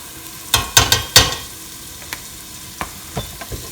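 Crab curry gravy mixture is sautéed in a pan, with a few sharp scraping stirs near the start, then softer scattered clinks and scrapes over a faint sizzle.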